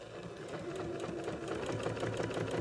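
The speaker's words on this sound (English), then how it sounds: "Sew straight along my center seams here." A sewing machine runs steadily, stitching straight along the center seams of a flower garden quilt block, with a continuous fast mechanical whir and rapid needle chatter close by.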